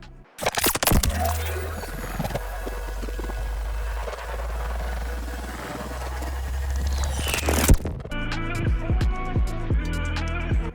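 A mastered sci-fi ability effect designed from gore sound library material: a sharp onset into a dense, sustained low rumbling drone with gritty texture, ending in a burst and then a string of short crunchy hits; no speech.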